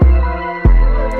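A simple 808 bass pattern in a hip-hop style beat: two deep booming 808 hits, loud and close, each followed by a long sustaining tail, with no talking.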